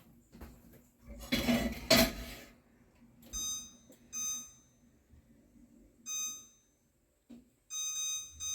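Electronic oven control beeps in short tonal bursts, several spaced presses while a kitchen oven is set to 450 degrees, preceded by a louder clatter of dishes or pans nearby.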